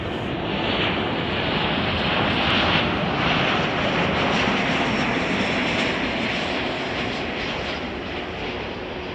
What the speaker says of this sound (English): it looks like Western Global is going to be prepping as it makes a right-hand turn onto runway 10 left